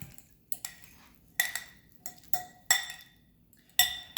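Guacamole being mixed in a bowl with a spoon: a series of sharp clinks and taps of utensil against the bowl, spaced irregularly about every half second, close and fairly quiet with no talking.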